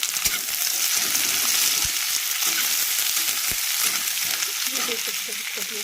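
Onions frying in very hot mustard oil with bay leaf, giving a loud, dense and continuous close sizzle broken by a few sharp knocks of the spoon.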